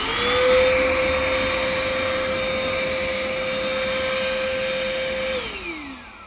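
A CompuCleaner Xpert electric air duster runs at high pressure, a loud, close, steady high-pitched whine with a rushing hiss that holds for about five seconds and then winds down in pitch.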